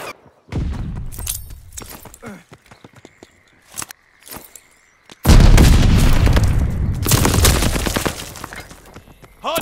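Gunfire and explosions around a hard point in a multiplayer shooter game, sparse sharp shots early, then a heavy booming blast followed by sustained loud fire and crashing debris, with a brief pause before another burst.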